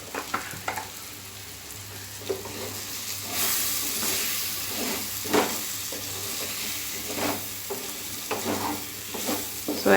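A spoon stirs roasted cumin, coriander and chili powder through pumpkin, peas and potato gravy in a pan, giving soft scraping strokes over a steady low sizzle and hiss, close but quiet.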